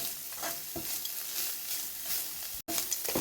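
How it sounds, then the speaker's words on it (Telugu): Grated beetroot and coconut fry in a pan with a soft, steady sizzle, while a spoon stirs and scrapes through the mixture at close range. "దీనిలో ఇప్పుడు కొబ్బరి వేసి ఒక 5 మినిట్స్ ఇట్లా దోరగా వేయించుకోవాలి"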